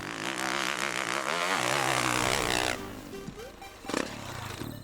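A 2013 Yamaha YZ450F four-stroke dirt bike engine roars loud and close under riding load, its pitch rising and falling for nearly three seconds before dropping to a lower, rougher idle with a brief blip of throttle near the end.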